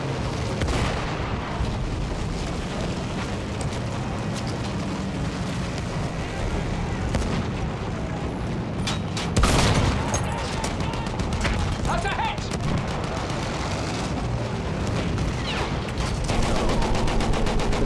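Gunfire in a first-person shooter video game, a near-constant rumbling barrage of shots and explosions with bursts and a louder blast midway, layered over game noise.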